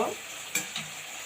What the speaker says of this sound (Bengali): ভালোভাবে নেড়ে চেড়ে মশলাগুলো একটু কষাই নেব